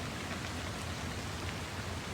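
Heavy monsoon rain pours steadily at the Aluva Shiva temple in Ernakulam district, a dense, unbroken hiss of downpour with no voices.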